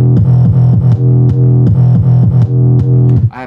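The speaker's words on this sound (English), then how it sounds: "I used two of those 808s from the first drop, and it sounds like this." Heavy 808 bass notes from an electronic track's drop pound in a repeating pattern, loud and sustained with pitch-dropping slides and crisp percussive hits layered on top, alone without voices.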